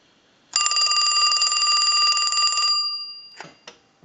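A Mickey Mouse novelty telephone on the repair bench rings its bell in a steady, bright two-second burst during a ring cycle test, followed by a couple of faint clicks as it stops.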